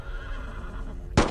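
A horse in the World War II shooter Brothers in Arms: Earned in Blood lets out a sudden loud whinny near the end, cutting above a steady background rumble of game ambience.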